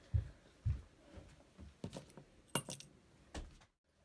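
Keys are set down with a few distinct metallic jingles and clinks, close and fairly quiet, in a home interior.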